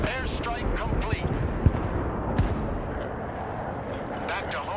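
Airstrike explosions in the video game Broken Arrow rumble as a dense, continuous barrage of booming blasts and crackling detonations, with a couple of sharper impacts standing out, loud and sustained throughout.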